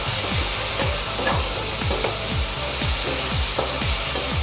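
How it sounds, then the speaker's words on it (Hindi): Whole spices for a tempering sizzle and crackle in hot oil with green chillies while a spoon scrapes the pan in a steady, repeating stirring rhythm. "अच्छे से इसका तड़का बना के फ्राई करना है।"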